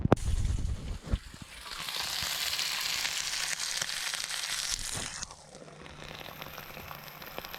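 Lamb chops frying in a pan at a New Zealand campsite, a steady bright sizzle that swells after an initial clatter and thuds, then dies down to a quieter crackle near the end.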